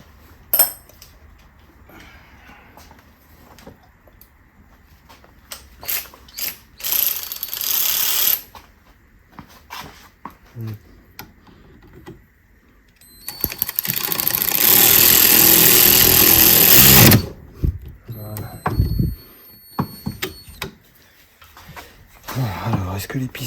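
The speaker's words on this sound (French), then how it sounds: "Prends la clé de 11. Même sur le cliquet" An electric ratchet with an 11 mm socket works on a rally race car under build, giving several loud whirring bursts separated by clinks and workshop noise, with people talking nearby.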